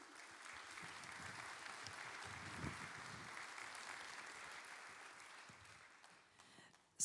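Sustained audience applause at a Patrimonia wealth-management conference as the ANACOFI president is welcomed, steady moderate clapping from a seated hall that tapers off before a sudden loud noise at the end.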